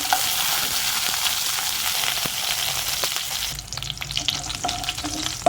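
Fenugreek seeds and garlic cloves fry in hot oil for a Tamil brinjal kara kuzhambu, a loud close sizzle that shifts partway through as the garlic goes in, followed by crackles and light stirring taps.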